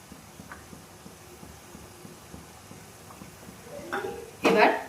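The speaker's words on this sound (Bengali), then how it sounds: "জলটা ফুটে গেছে, এর মধ্যে আমি থালাটা দিয়ে দেব" A steel plate set down into a pot of boiling water for steaming chicken momos, giving a brief clatter and clank near the end over a low steady simmer, close and moderately loud.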